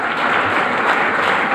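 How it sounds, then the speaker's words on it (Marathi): Sustained audience applause at a cycling association certificate distribution ceremony, a thick even wash of many hands clapping at once, loud and continuous throughout. "खणखणीत टाळ्या एकदम चटकदार नाश्त्यासाठी."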